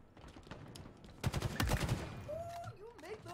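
Rapid automatic gunfire in a first-person shooter video game rattles in a dense burst, mixed with game effects and faint background voices.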